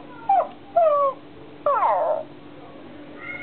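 A FurReal Friends walking toy puppy gives three short electronic yelping barks, spaced apart and close by, with faint mechanical noise between them.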